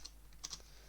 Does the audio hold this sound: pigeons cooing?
no